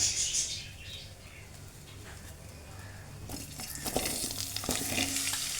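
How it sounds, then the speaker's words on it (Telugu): Chopped vegetables drop one by one into two tablespoons of hot oil in a pan, starting as a soft hiss and turning into a louder, busier crackle and sizzle with sharp pops toward the end. "ఒక బాణల్లో ఒక రెండు టేబుల్ స్పూన్ ఆయిల్ తీసుకొని ఈ తరిగి పెట్టుకున్న కూరగాయ ముక్కలని ఇందులో వేసేద్దాము"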